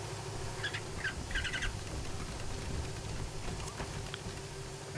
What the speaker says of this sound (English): I think it's the toaster that's making the sound that the squirrel sound. The chittering and chirping.